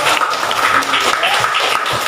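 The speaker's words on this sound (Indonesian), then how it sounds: "Bagus ya, tepuk tangan semuanya" A classroom of students applauding, with steady close clapping that runs without pause.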